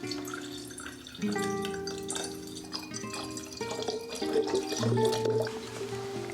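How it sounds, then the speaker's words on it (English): Tap water pours into a vase for Monstera deliciosa cuttings, a close running and gurgling flow that shifts in pitch as the vessel fills. "right now I'm just going to probably fill this up with water"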